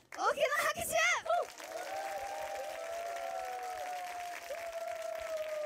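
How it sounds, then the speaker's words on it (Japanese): Concert audience at the end of an idol group's live tour show breaks into sustained applause and cheering, loud and steady after a brief burst of speech at the start, with whistles and shouts carrying through. "大きな拍手"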